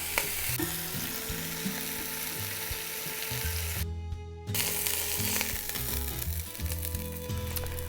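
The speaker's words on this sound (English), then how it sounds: "you'll want to brown these ribs really well" Pork ribs browning in a pot for pozole, sizzling and crackling loudly and close up, with intermittent stirring and scraping sounds and a brief quieter pause midway.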